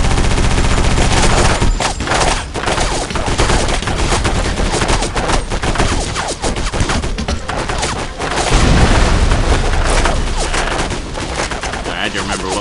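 Dense, loud bursts of gunfire and grenade blasts from the Area 51 video game roll on almost without a break, layered and chaotic, with a heavy boom near the eight-second mark.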